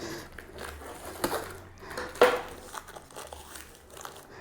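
Plastic packaging of a newly arrived product being torn and sawn open with a blunt knife, with soft crinkling and scraping over several seconds and a sharper rip near the middle.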